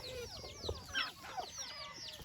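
A rooster sick with coryza clucks nearby in a farmyard, a run of short, repeated clucks close to the listener over a faint background hum.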